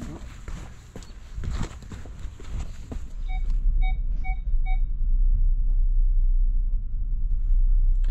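A short series of four electronic beeps from a van sounds in quick succession over a steady low engine rumble, with some earlier clattering and faint background noise.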